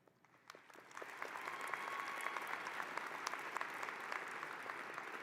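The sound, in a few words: applause for graduates at commencement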